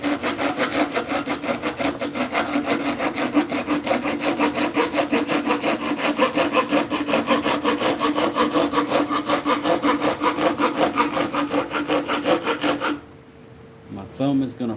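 A hand saw cuts through wood in fast, even back-and-forth strokes, a loud rhythmic rasping that runs continuously before stopping, leaving a few quiet handling sounds.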